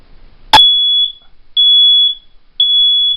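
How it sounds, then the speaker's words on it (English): A Fire Angel toast-proof smoke alarm sounds three loud, close, piercing beeps, each held for about half a second, after one sharp click at the start. "That's the smoke alarm for it."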